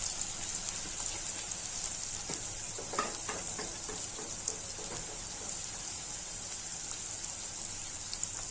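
Chopped onion sautés in a pan with mustard seeds and cumin, a steady bright sizzle carrying on throughout, with occasional stirring clicks and scrapes but no talking.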